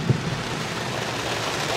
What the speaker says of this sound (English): It's thundering, lightning, raining.